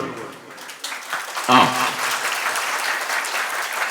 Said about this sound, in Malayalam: ഒരു നല്ല കയ്യടി നമ്മൾ